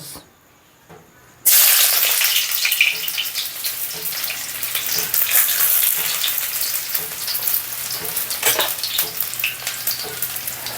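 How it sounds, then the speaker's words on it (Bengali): Chopped onion drops into hot oil for a fish curry and bursts into a loud, close sizzle, which stays dense and crackling for the rest of the clip after a short quiet opening. "প্রথমেই দিয়ে দিব তেল এবার দিয়ে দেবো কুচিয়ে রাখা একটা পেঁয়াজ"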